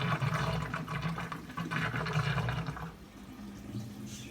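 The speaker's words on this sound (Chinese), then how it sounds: "现在我们就开始让它排水先，" Water drains steadily from a Midea MFW-701S washing machine, a continuous rushing, gurgling flow heard close and fairly loud on its own, easing slightly toward the end.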